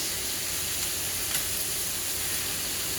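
Steady sizzling hiss of a sous vide steak searing in a very hot pan, browning as it cooks, a continuous close frying crackle with no talk over it.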